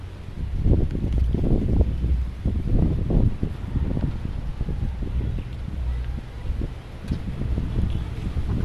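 Gusty wind buffets and rumbles against the microphone in uneven surges, loud low-end blasts rising and falling throughout.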